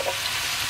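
Sausage and dandelion greens fry in a pan with a steady, loud sizzle that crackles evenly and continuously from up close.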